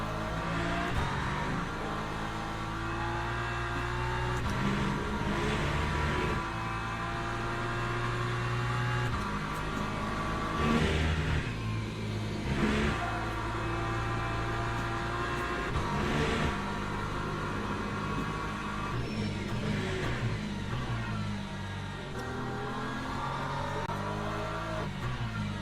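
Race car engines in Le Mans Ultimate at Silverstone, including a struggling McLaren, droning and revving continuously with pitch rising and dropping through gear changes over a long stretch, loud and steady, no talk.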